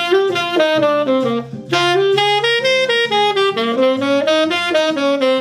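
Tenor saxophone runs a full blues line mixing dominant and minor licks in practice, a fast continuous stream of notes moving up and down with no other sound.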